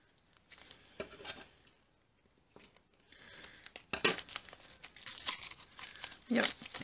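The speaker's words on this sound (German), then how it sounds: "Da werde ich mal gleich das zweite davon auch auspacken, weil das wird auch eine Dose sein." Paper tears and crinkles as a gift parcel holding a glittery tin is unwrapped, starting with faint scattered rustles, then louder ripping bursts and crumpling close to the microphone.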